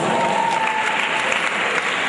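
At a school Founders Day event, an audience applauds a student speaker walking out, continuous loud clapping filling the room at an even level, with faint voices underneath.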